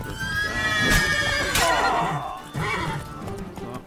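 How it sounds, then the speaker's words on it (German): Horse in The Witcher III neighing, a loud, drawn-out whinny that wavers in pitch across several seconds, with faint hoof clops and game ambience beneath. "Aha, ein Pferd."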